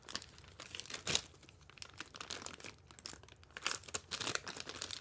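A package being torn open by hand, with irregular crinkling and tearing bursts of plastic or paper wrapping, close and moderately quiet, with sharper rips near the start and toward the end.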